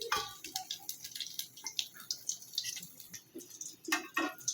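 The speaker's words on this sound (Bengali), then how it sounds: "এরপর মেরিনেট করা ডিমটা এভাবে গরম তেলে ছেড়ে দিতে হবে।" Beaten egg mixed with onion and chili drops into hot oil and sizzles, giving a close, steady crackle of tiny pops with no talking.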